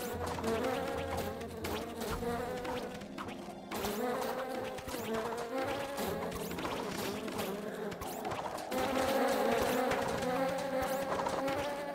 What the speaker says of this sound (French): Cours! Des abeilles!